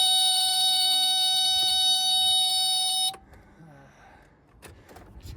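A boat's alarm buzzer blares as a loud, steady high-pitched tone once the power comes on, cutting off after about three seconds and leaving faint clicks and rustling.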